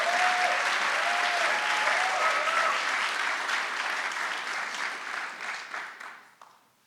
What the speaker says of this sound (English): I guess we were supposed to clap for Gifton.